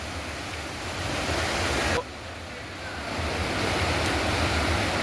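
Rainwater rushes through a stream after heavy rain in Ballari, roaring steadily and loudly, a dense broadband flow like a swollen stream, continuing without pause throughout.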